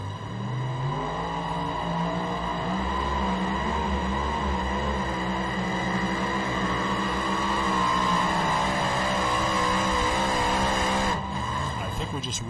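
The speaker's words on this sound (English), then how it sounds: "we could hear a two-wheel drive also making a pass out there" A heavy engine roars continuously as a pulling tractor makes a long pass at a truck and tractor pulling championship, its pitch rising and falling, with a brief clatter near the end.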